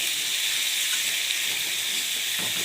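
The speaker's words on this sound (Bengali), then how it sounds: "কচু আলুটাও ভাজা হয়ে যাবে, পেঁয়াজটাও ভাজা হয়ে যাবে।" Taro, potato and onion fry in a pan with a steady, dense sizzle that holds evenly throughout, close and loud with no voices.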